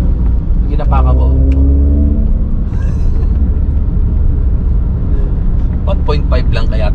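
The engine of a 2007 Toyota Yaris hatchback with a 1.5-litre motor hums in third gear at around 40 km/h, a steady loud cabin drone and rumble running underneath someone talking throughout.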